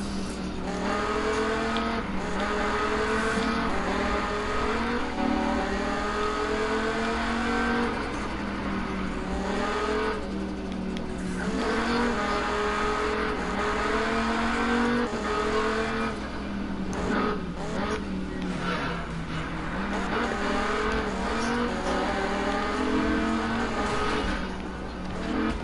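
Cars racing in Need For Speed, with a steady, loud engine drone that rises and falls through gear shifts and revving, plus occasional tire squeal, going on continuously without talk.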